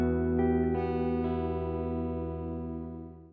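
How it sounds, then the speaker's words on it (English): A sustained musical chord, processed through the reverb effect of a MOTU Track16 audio interface's monitor mix, rings smoothly with a few re-struck notes and then slowly fades away in a long, even decay. "adjustable reverb times for up to a full minute of decay"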